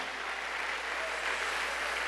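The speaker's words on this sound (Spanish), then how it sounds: "Dale palmas al Señor." A church congregation clapping hands during Spanish-language worship, a steady dense patter of many palms that fills the whole stretch without pause, moderately loud with no clear voices over it.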